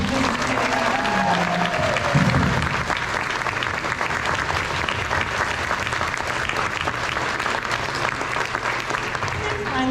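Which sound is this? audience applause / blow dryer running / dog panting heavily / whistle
audience applause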